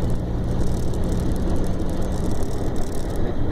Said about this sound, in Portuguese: É assim que eu tô trocando marcha sem embreagem.